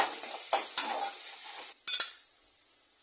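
Tomato peel sautéing in a pan while being stirred, with a few sharp utensil scrapes and clinks against the pan over a faint steady sizzle, close and moderately loud, with no talking.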